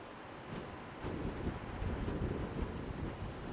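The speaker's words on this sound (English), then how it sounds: "Oh, it's windy. Hope it's not on the mic too bad." Wind buffets the microphone in a low, rumbling roar that gusts stronger partway through, with no voices.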